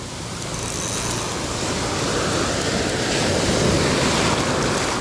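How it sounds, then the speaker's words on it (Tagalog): Heavy ocean surf roars continuously at a shore fishing spot, big waves crashing and rushing in close with a steady wash of wind noise and no voices. "Malaki talaga yung alon."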